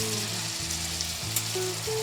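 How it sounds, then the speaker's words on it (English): Peppers for sloppy joes sizzle steadily in a pan, a close, continuous frying hiss with a faint background hum. "Stir and let simmer until the peppers begin to soften"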